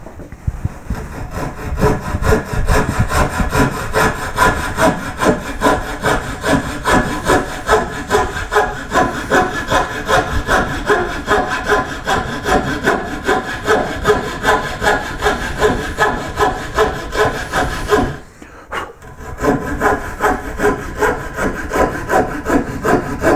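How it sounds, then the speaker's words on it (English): Coping saw cutting through a wooden blank for a koi carp carving, steady rhythmic back-and-forth strokes close up and loud, running continuously with one brief pause near the end. "I'm going to cut this out with a coping saw."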